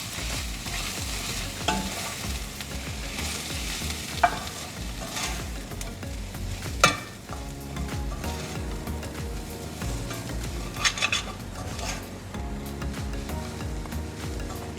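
Masala with coriander powder for mutton kuzhambu is stirred in a hot pan, a continuous close sizzle with a spoon scraping and clinking at irregular intervals throughout, no voices.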